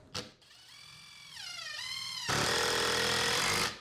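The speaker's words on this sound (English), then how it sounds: "We're going to drive a couple of screws. We'll start with the DeWalt, and let's see what it does." DeWalt XR cordless impact driver with a 5 amp hour battery driving screws, a loud whirring motor that rises in pitch, then breaks into a steady, harsh rapid hammering for over a second before stopping, close up with no talk.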